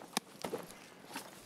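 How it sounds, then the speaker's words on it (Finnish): A few footsteps in the video game Escape From Tarkov, faint and fairly distant: a sharp tap, a pair of softer steps, then another light step, with no talk. "Mä kuulin taas jotain askelia."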